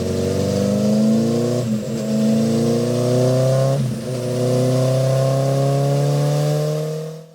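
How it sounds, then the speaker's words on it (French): A motorcycle held at full throttle on a dyno bench at a bike rally, its engine screaming loud and close in long sustained pulls that climb in pitch, with two brief dips between runs. "du bruit et des motos poussées à fond afin de connaître leur performance"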